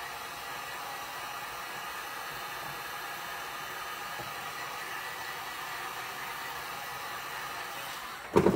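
A heat tool blows hot air to warm wood glue during a silver tray makeover, giving a steady, even whooshing hiss that runs unbroken until a short clunk at the very end.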